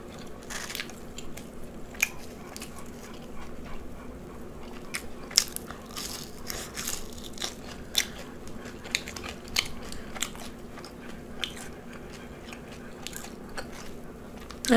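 Close crunchy bites and wet chewing of pickled banana peppers during a meal of White Castle cheeseburgers and zucchini fries, with irregular crisp crackles and squishes, fairly soft and with no talking.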